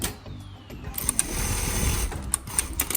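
A SHUNFA S5 computerized semi-dry industrial sewing machine whirs steadily as it cuts the thread and lifts the presser foot, with short mechanical clicks and clacks over a constant motor hum.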